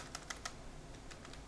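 Quiet typing on a computer keyboard, a short burst of three crisp key taps followed by a few fainter presses, soft and close with no one speaking.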